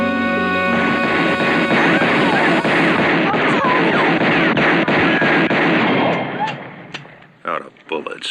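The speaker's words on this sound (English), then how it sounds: "everyone is shooting at one another from like what 6 feet away" Loud, dense video game gunfire in a close-range shootout, with rapid overlapping shots and blasts that hold for several seconds, then thin to a few scattered bangs near the end.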